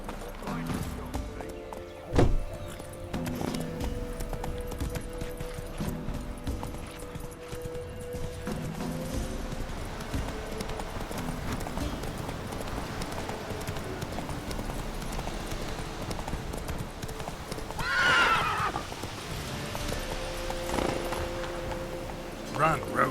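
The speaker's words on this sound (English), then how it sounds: "Run, Roach" Hoofbeats of a horse in The Witcher III clop steadily in the game, with a brief whinny partway through, under continuous game sound and a talking voice.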